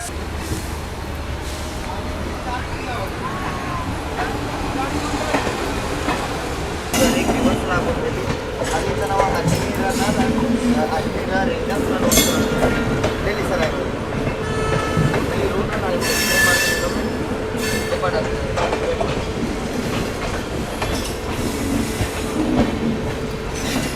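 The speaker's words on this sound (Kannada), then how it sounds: "ನಾವು ಹೊರಟ್ಬಿಟ್ಟಿದ್ದೀವಿ ಉದಯಪುರ್ ಸಿಟಿ ರೈಲ್ವೆ ಸ್ಟೇಷನಿಂದ" Chetak Express pulling out of Udaipur City railway station, a steady rumble of rolling wagons with wheel squeal and rattling clatter throughout, a person speaking over it.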